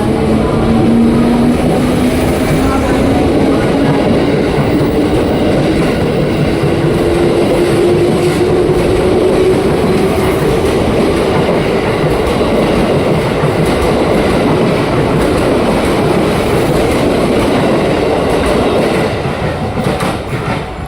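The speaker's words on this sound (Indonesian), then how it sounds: "di jalur satunya ada komuter tujuan Jakarta Kota yang bakal berangkat" Twelve-car commuter train bound for Jakarta Kota pulling out of Pondok Cina station, a loud continuous rumble and rolling clatter with a faint rising motor whine, sustained throughout and easing slightly at the end.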